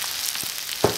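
Pork stir-frying in a wok, a continuous bright sizzle with a couple of quick scraping stir strokes, close and loud.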